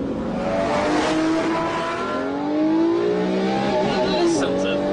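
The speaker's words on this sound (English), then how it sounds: "Just for that noise when you blip the throttle." A Lamborghini Murcielago LP640 engine blares loudly, its tone swelling and dipping with sharp throttle blips, close and dominant throughout.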